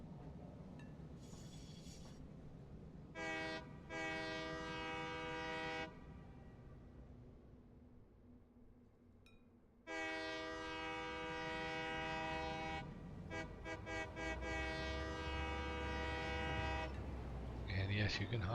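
A train in the video game Satisfactory runs along its track, sounding long tonal horn blasts in two main bursts separated by a quieter rumbling stretch, with a low mechanical drone underneath throughout.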